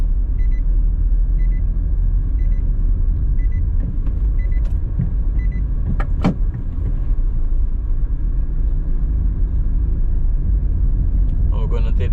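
A car drives through the residential streets of Moreton Park in Kingston, Jamaica, its low steady engine rumble and road noise filling the cabin with faint clicks throughout.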